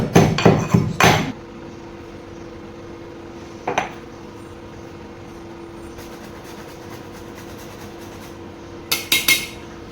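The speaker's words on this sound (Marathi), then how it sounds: "वेलायची इतकं चेचायला टाकते आता मिक्सरला काही लावीत बसत नाही" Sharp metallic pounding in quick bursts of three or four strikes as cardamom is crushed in a metal mortar and pestle, one lone knock midway, then another rapid burst near the end, with quiet between.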